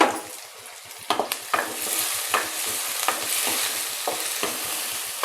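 Onion and tomato sauté over low heat for a dried-fish curry, a soft sizzle under rhythmic scraping and stirring strokes of a spatula against the pan, close and steady.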